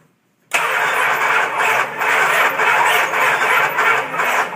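A 1969 Dodge Charger that won't start, its engine cranking in one sustained, loud grinding burst with a rhythmic surge, the starter sounding sluggish as if the battery were weak, with no other sound behind it.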